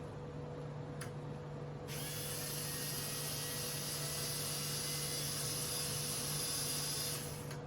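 AFX Mega G HO slot car with inline motor running on a Giant Raceway track, a steady high electric whine with a constant motor hum, faint and continuous throughout.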